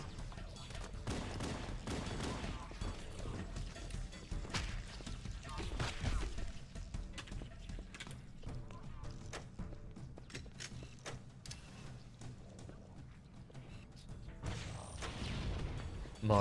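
Rockets fire and explode in Halo: Combat Evolved, a dense run of booming blasts, thuds and whooshes layered into constant battle noise that swells and dips throughout.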